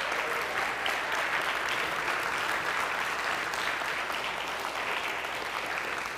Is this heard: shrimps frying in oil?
no